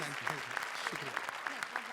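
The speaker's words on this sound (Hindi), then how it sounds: "जोरदार तालियां" Studio audience applause on a Hindi comedy show, Comedy Circus 2, a steady wash of clapping across two seconds with voices mixed in underneath.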